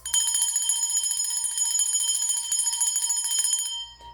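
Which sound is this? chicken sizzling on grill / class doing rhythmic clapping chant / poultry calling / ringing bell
ringing bell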